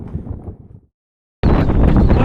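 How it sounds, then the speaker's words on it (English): Wind buffets the microphone in snowy Arctic Finnmark terrain, a rough low rumble that drops out briefly and then returns louder and steady. "Still a little bit windy, but not too bad."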